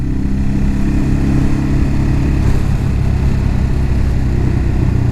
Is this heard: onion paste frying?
no